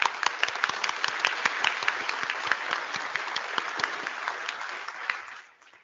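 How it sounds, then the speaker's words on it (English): A plenary audience at an IETF meeting applauds in a dense, steady burst of many hands clapping, filling a large hall for several seconds before quickly fading out. "Little applause for you."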